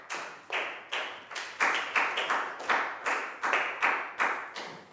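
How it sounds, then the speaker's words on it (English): A class of students in a Year 4 science lesson clapping for a classmate, with about a dozen distinct, evenly spaced rhythmic claps, each with a short ringing tail, close and clear. "Big round of applause for Chu."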